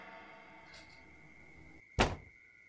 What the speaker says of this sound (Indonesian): itu nanti pintu kita rusak diketok terus